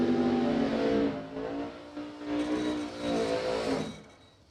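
Drag racing cars, including a 1971 Dodge Dart with a 440 cubic inch Mopar engine, roar loudly at launch, engines revving and rising in pitch before fading away.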